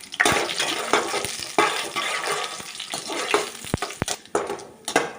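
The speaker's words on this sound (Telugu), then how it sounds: "ఆవాలు జీడిపప్పు ఒక్కరిగా వేయించుకుంటాం" Mustard seeds and cashews fry together in a pan for semiya upma, a loud, continuous sizzle broken by sharp pops and crackles from the seeds.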